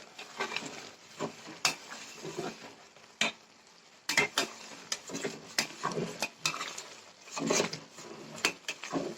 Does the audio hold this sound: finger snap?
no